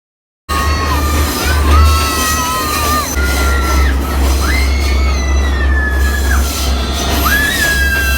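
A passenger train climbs through Sri Lanka's cold Nuwara Eliya hill country toward Nanu Oya station, its wheels squealing in long, wavering high tones over a loud, steady rumble of the cars, close and continuous with no talking.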